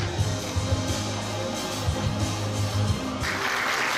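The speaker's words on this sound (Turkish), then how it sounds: "Alkışlarımızla kendisini kutluyoruz" Applause ripples through an audience at a carpet export awards event, a moderate burst of clapping with a low hum underneath, thickening toward the end.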